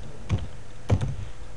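Two brief bursts of keystrokes on a computer keyboard while entering captcha characters, each a quick cluster of clicks separated by a short pause, close and clear with no talking.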